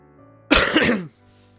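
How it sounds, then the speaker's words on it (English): A single harsh cough from someone with a lingering cough, close and loud, lasting about half a second with no talking around it. "Still got a bit of a cough, sorry guys."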